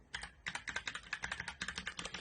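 Rapid, steady keystrokes on a Blitzwolf BW KB1 mechanical keyboard, close and crisp, a dense run of clicks with no voices.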